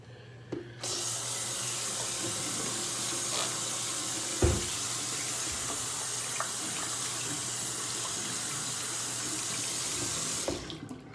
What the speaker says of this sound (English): Now, you want to wash your hands.